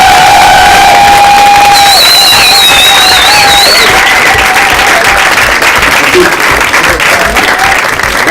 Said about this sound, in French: On peut applaudir maintenant